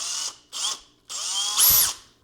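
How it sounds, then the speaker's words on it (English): A Makita cordless drill runs on an aftermarket knockoff battery, giving three close, loud bursts of motor whine of about half a second, a second and a half and a second, the last rising to a higher, harsher pitch. "Here's a Makita drill."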